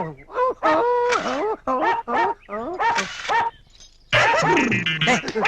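A voice imitates a rooster's crow in a run of rising, warbling calls meant to excite a dog, with breaks between them and a louder, rougher outburst toward the end.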